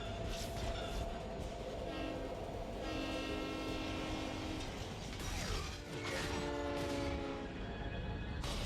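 A train in a Star Wars series scene: loud rumbling wheels and grinding mechanical ratcheting under blaring horn-like tones and dense action sound effects, sustained throughout.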